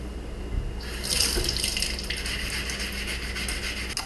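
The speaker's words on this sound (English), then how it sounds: "So I'm going to wash all my vegetables and then I'm going to disinfect them." Tap water runs steadily into a sink as vegetables are washed for a Mexican shrimp soup, a bright hissing stream that starts after a short pause and continues close and even with no talking.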